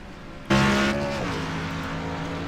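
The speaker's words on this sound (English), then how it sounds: "Yep, get them cars fired up" Race car engines fire up on a qualifying grid, one loud engine catching abruptly and then holding a steady droning rev that eases slightly as it settles.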